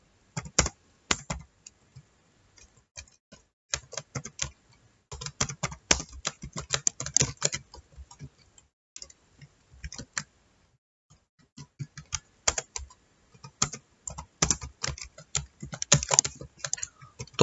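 Computer keyboard typing in bursts of quick clicks, with pauses in between, close and fairly quiet, while working in a spreadsheet.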